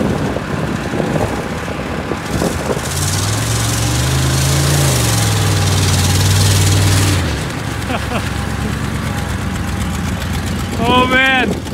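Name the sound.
Dodge truck engine driving through mud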